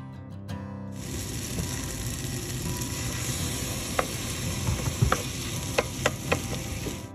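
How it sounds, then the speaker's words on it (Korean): Abalone innards are mashed and stir-fried with rice in a pan for abalone porridge, making a soft, continuous sizzle with scattered sharp clicks and taps from a spatula striking the pan. "내장을 으깨주면서 볶아주세요."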